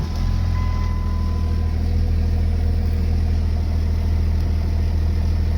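A second-generation Dodge Ram's engine idles steadily at close range, a continuous low rumble with no voices.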